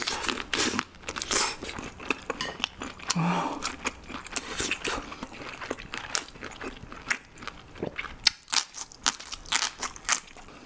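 Crunchy shrimp bitten and chewed close to the mic in a Korean seafood mukbang, with repeated sharp crunches and wet chewing clicks over about ten seconds, no talking.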